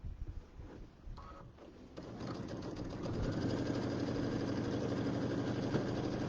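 A sewing machine stitches a quarter-inch seam around the edge of a bench pillow, starting with a few short bursts and then running steadily and loudly for several seconds with a continuous whirring drone.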